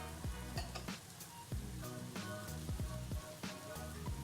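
Steady sizzling and crackling of mushrooms and sweet peppers frying in a hot pan, with periodic spatula taps and scrapes against the pan.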